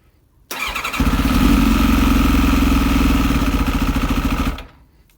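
A Kawasaki ZX7R motorcycle engine, long stored, turns over and catches, then idles loud and close on choke with a steady pulsing throb for about four seconds before cutting off.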